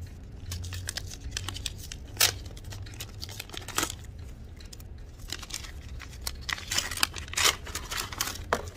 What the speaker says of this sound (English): And a little envelope here.